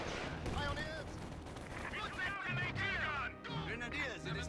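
Machine gun fire rattles through a Company of Heroes 2 battle, the bursts mixed with explosions and game noise while voices talk over the fighting throughout.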